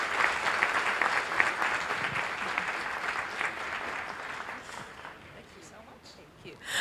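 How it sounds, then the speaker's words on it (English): A crowd applauds at a conference opening ceremony with strong, continuous clapping that slowly dies away, before a voice picks up near the end. "Another round of applause for Johan"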